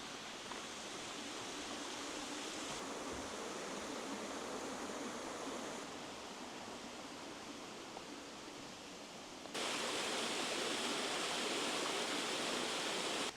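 A small waterfall beside a bridge gives a steady, even rush of falling water, heard alone and unbroken, growing a little louder near the end.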